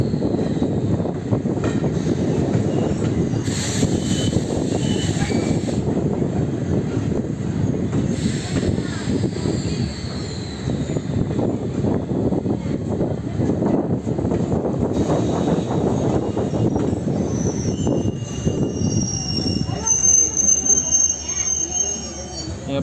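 Two express trains passing each other on an Indian railway line, a continuous loud rumble of wheels and carriages with faint squeals, heard from a nearby train, lasting over twenty seconds.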